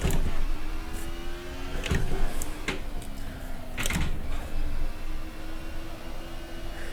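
An Alfa Romeo DTM race car engine drones steadily at the Nürburgring GP in Assetto Corsa, with short sharp clicks and pops from downshifts breaking up the sustained tone.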